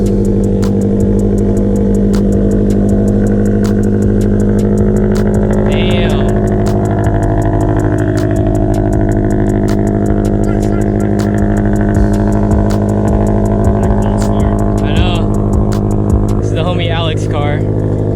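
A Scion FR-S with a straight pipe exhaust idles loud and close in a steady, rumbling drone, with a few brief rises in pitch like light revs. Talking is faintly audible over it.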